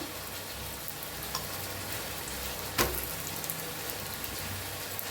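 A paneer roll roasts in a pan with oil, giving a steady, soft frying sizzle with a faint crackle throughout and one brief sharper pop partway through.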